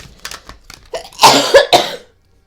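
A person coughs several times in quick succession, loud and close, with a throat-clearing quality, followed by silence.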